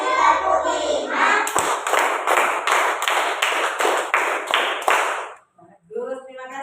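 A classroom of children claps a counted rhythm game, about ten brisk, even claps in a steady run, loud and close, after a teacher's spoken lead-in and followed by brief talk.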